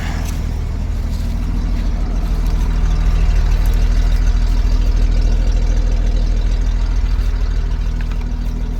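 An old Chevy dump truck engine, running after sitting 15 years, idles steadily, a loud, constant low rumble close by with no speech.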